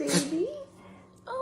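A dog gives one short, sharp sneeze right at the start, followed by a brief whimpering tone and a person speaking softly nearby.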